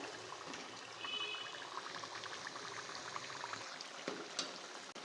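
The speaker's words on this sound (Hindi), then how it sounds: "इस तरह से हमने दोनों तरफ से अच्छा सा कलर आने तक फ्राई कर लेना है" Aloo suji snacks frying in oil in a pan over a medium flame, a soft steady bubbling hiss with faint crackles and a couple of small clinks, fairly quiet throughout.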